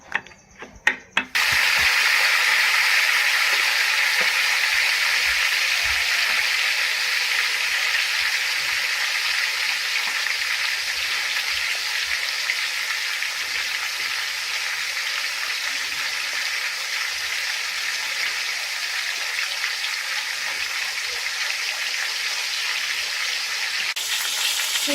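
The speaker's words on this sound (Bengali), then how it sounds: "এবার আমি ভেজে নিচ্ছি।" Fish head fried in a pan for a bottle gourd curry, giving a loud, steady, bright sizzle that runs unbroken for the length of the clip after a few short knocks at the start.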